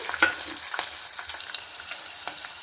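Peanuts and chillies frying in hot oil in a home kitchen, a steady broadband sizzle broken by sharp crackles and spoon-scrape clicks, close and moderately loud, with no talking.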